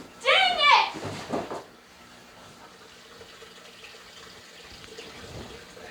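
Water runs through an aquarium siphon during a freshwater-to-saltwater tank setup, a quiet, steady gurgling flow after a brief burst of speech, continuing faintly to the end.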